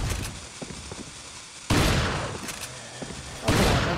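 Gunfire in the video game Resident Evil 4: two loud shots or short bursts about two seconds apart, each a sharp broadband crack that rings and decays, over a low game ambience with faint thumps between them.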